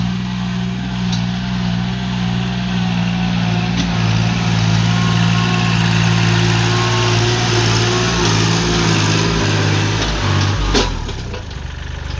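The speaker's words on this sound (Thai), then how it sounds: "เป็นรถเครื่องยนต์สามสูบค่ะ" A small three-cylinder car engine idles steadily and evenly for the whole stretch, a close, droning hum that dips and shifts briefly near the end.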